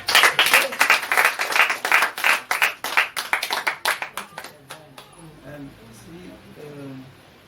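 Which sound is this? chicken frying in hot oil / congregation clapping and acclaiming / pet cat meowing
congregation clapping and acclaiming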